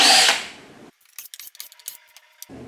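A hand tool working screws loose from a box sounds as a brief loud burst, then a run of sharp close clicks and light metallic taps, with no voices.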